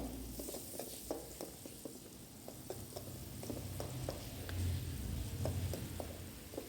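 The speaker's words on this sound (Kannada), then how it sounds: "ಒಂದು ಸ್ವಲ್ಪ ಈರುಳ್ಳಿ ಎಣ್ಣೆಲಿ ಚೆನ್ನಾಗಿ ಫ್ರೈ ಮಾಡ್ಕೊಳ್ತಾ ಇದ್ದೆ" Onion and garlic frying in oil in a pan for egg curry, a soft continuous sizzle with a quick run of light taps and scrapes from stirring, close but fairly quiet, no voices.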